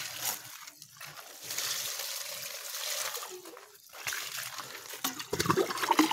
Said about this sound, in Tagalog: nagdidilig na po ako ng halaman